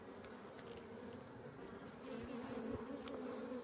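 Honeybees buzz around a small nucleus hive outdoors, a continuous close droning hum with individual bees passing near, steady throughout with no talking.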